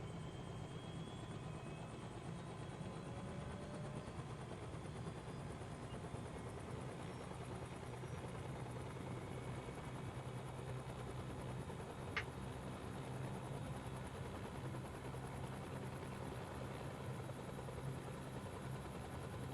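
An aircraft engine idles while warming up in a flight simulator, a constant low droning rumble with a steady whine on top, unchanging and moderately quiet throughout.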